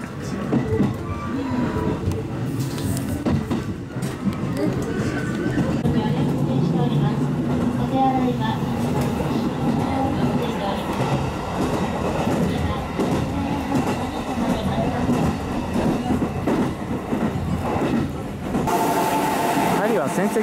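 Steady rumble and rattle of a Senseki Line commuter train in motion near Sendai, Japan, heard from inside the carriage, continuous and fairly loud with no talking.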